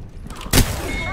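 A single sharp gunshot crack rings out in Apex Legends, brief and loud against a low game background, followed by a short ringing tail.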